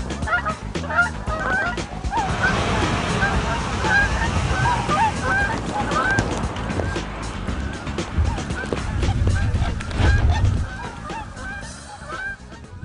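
Captured tundra swans call repeatedly in a dense chorus of overlapping, honking whoops, loud and close, over a steady rumbling background throughout.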